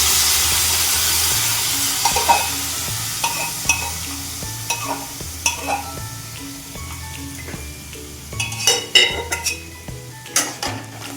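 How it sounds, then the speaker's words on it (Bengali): Dried peas tossed into fried spices in a pan for ghugni, with a low steady sizzle under repeated clinks and scrapes of a spoon stirring against the metal, loud and close, no talking. "মশলাটা ভাজা হয়ে গেছে, এবার তার মধ্যে মটরগুলি দিয়ে দিচ্ছি"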